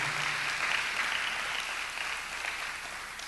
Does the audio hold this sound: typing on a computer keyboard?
no